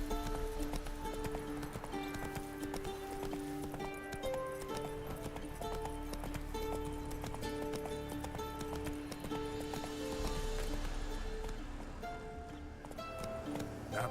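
Horse Roach galloping in The Witcher 3, a steady rhythmic clip-clop of hooves running continuously over a layer of game music.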